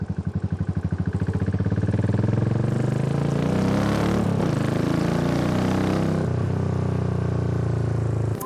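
A premium motorcycle engine close by on the Yamuna Expressway builds from a throbbing idle to a strong revving roar, then holds a steady drone.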